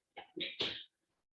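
A person sneezes during a biology lecture: one loud, close burst built from three quick breathy pushes, then silence.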